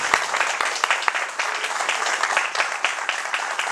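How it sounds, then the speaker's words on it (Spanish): Audience applause at a gala evening, a steady wash of many hands clapping close and fairly loud throughout, with a few sharper individual claps standing out. "Un aplauso."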